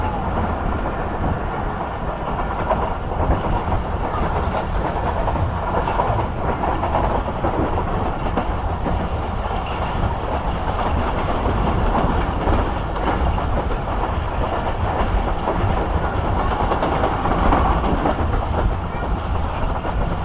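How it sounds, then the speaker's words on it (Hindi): Rehman Baba Express train running steadily along the rails on a foggy winter night, a continuous loud rumble and rattle with rhythmic clickety-clack throughout. "आगे काफ़ी अच्छी से दौड़ रही है ट्रेन।"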